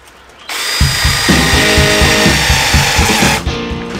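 An iMAX IMCD-20GT cordless drill bores into steel, a steady loud whine with a pulsing low grind as the bit works, starting abruptly and stopping after about three seconds.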